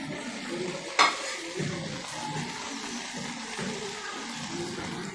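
Two boiled potatoes are stir-fried in a pan alongside boiled carrots and peas, with a continuous close sizzle, one sharp utensil clack near the start and soft scraping stirs throughout, with no talking.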